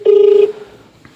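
A single loud telephone keypad dialing tone sounds once, short and steady, followed by quiet.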